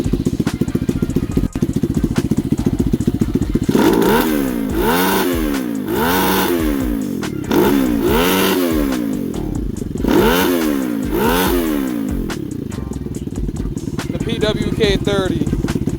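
A Lifan KP Mini 300 motorcycle with a ZS175FMN four-valve engine and a freshly swapped carburetor, revved up and down by hand several times in a row; rising and falling engine tones from close by.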